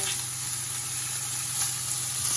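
Burgers sizzle steadily in a hot frying pan on high heat, a close, continuous crackling hiss with no voices over it.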